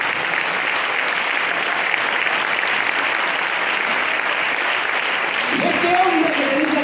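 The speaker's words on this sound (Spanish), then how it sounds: "Un aplauso fuerte, por favor." Church congregation applauding loudly at a sermon, a steady wash of clapping that fills the room for several seconds, with a voice starting to speak near the end.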